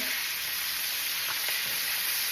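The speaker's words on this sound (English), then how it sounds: "we're going to start stirring it in" A steady, dense sizzle fills the pan as green cabbage is stirred into hot pepperoni oil, with a few faint scrapes of the spoon beneath the constant frying hiss and no talk.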